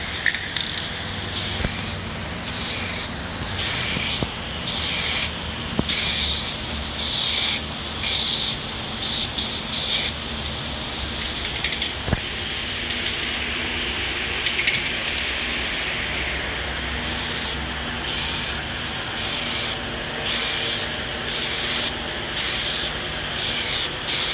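Repeated bursts of aerosol coating sprayed onto a taped and scuffed car headlight lens, with faint rubbing and handling noises between them, close up, steady rhythm and no voices.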